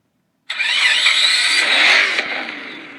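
A red car's engine in Minecraft starts abruptly and revs steadily, loud and close, then eases slightly as it begins to pull away, with no one talking.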